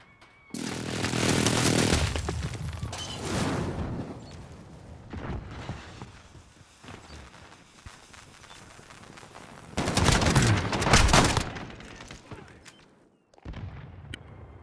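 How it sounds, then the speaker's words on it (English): Loud bursts of automatic gunfire and explosions from an enemy precision airstrike in a shooter video game. Two dense, heavy barrages are separated by quieter scattered shots and rumble, and there is no speech. "Enemy precision airstrike."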